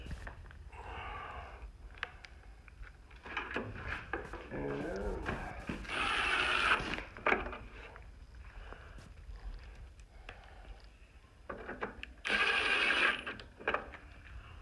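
Screws being driven into the panel of an Atwood/Dometic RV furnace during reassembly, heard as bursts of ratcheting, whirring driver noise and scraping against the metal housing, close up, with rubbing and handling sounds in between.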